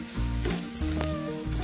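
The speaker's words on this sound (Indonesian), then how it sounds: "Setelah bumbunya matang, baru kita masukkan batang daun bawangnya, lalu tumis sebentar lagi" Spice paste and leek stalks sizzle and fry in a wok for soto Betawi, a close, steady crackling hiss with a few stirring scrapes and no voices.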